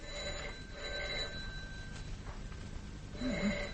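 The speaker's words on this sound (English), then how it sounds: "She's not answering the phone." A telephone rings unanswered in an old radio drama, with two or three faint trilling bursts over quiet room tone.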